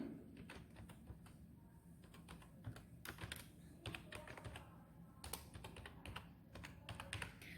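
Fingers tap on a computer keyboard while entering an email address during a login, quick irregular clicks in short bursts, quiet and close, without any voices.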